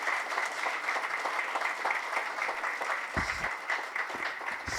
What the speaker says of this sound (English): A loud round of applause for Dr. Sean Seti and this team to have performed